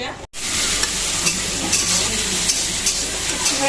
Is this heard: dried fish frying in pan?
yes